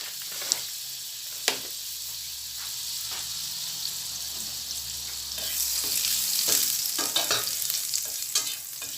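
Chicken wings for a soy sauce dish fry in a little butter in a pan, a steady close sizzle that swells louder midway, punctuated by a few sharp clicks and scrapes of stirring.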